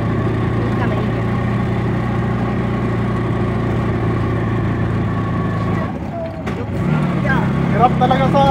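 A tuktuk engine labours uphill in second gear on a mountain trail, with a loud, steady droning hum that dips briefly before surging again, and voices speak over it.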